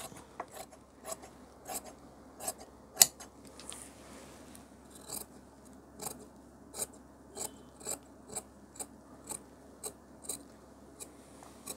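Tailor's scissors snip through fabric while a princess-cut blouse is being cut, a steady series of sharp metallic clips at roughly even intervals, close and quiet, with no talking.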